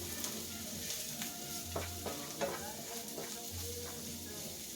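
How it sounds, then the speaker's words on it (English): Garlic cloves and onions sizzle steadily in a pan, with a few scraping stirs of a utensil breaking through the continuous frying hiss; no one talks. "Give this a couple of stirs."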